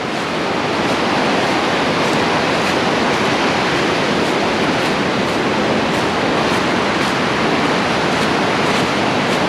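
River rapids on the Nantahala Cascades at low water roar in a dense, constant rush of churning whitewater, loud and close, with no talk over it.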